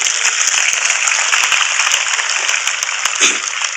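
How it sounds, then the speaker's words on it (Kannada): A crowd at a gavisiddeswara jatre gathering claps to honour a mother, dense steady applause from many hands, loud and close, sustained throughout without pause. "ತಮ್ಮ ಜೋರಾದ ಒಂದು ಚಪ್ಪಾಳೆ ಆ ತಾಯಿಗೆ"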